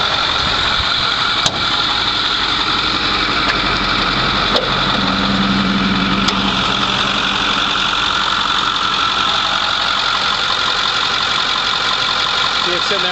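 A 2008 Ford F250 Powerstroke turbo diesel engine idles with a steady, loud, even rumble and a bright whine, running continuously close by with a few faint clicks.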